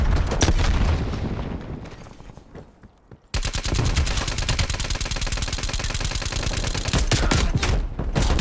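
Combat in Call of Duty: Black Ops Cold War with a grenade blast, a loud burst fading to near silence, then a sustained rapid stream of close gunfire.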